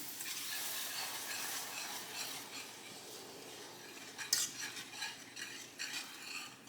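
Giblet gravy with milk being stirred in a pan, a steady scraping and sizzling hiss running throughout with a brief louder clink of a utensil near the middle, heard close with no voices.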